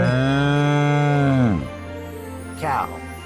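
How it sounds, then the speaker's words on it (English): A cow gives one long, loud, close moo lasting over a second, followed by a brief shorter call, with a steady musical hum behind. "गाय,"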